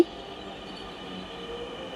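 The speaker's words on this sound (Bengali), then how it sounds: "ফাইনালি ট্রেন চলে আসলো।" A train pulls into a station at Uttara Diabari, heard as a faint, steady rumble and rail noise that holds evenly throughout, with no voices.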